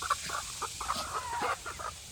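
A flock of farm chickens clucks in short, overlapping bursts at moderate distance, steady and fairly quiet, over a constant hiss of outdoor background noise with no talking.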